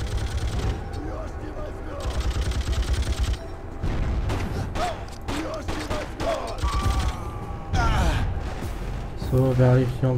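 Video game gunfire in Freedom Fighters: rapid bursts of automatic shots and scattered single cracks over a noisy battle, with voices shouting between the volleys.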